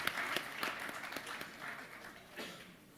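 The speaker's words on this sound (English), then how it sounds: "big round of applause, guys, for somebody who's really done well with Indian real estate" Panel discussion audience gives faint applause, scattered clapping from a modest crowd that fades out after a few seconds.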